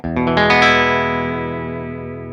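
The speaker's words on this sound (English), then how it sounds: "We can now have our nice sparkly Gretsch sound." A Gretsch electric guitar fitted with a treble bleed mod strums a bright, chiming clean chord that rings out with shimmering highs and slowly decays, loud and close.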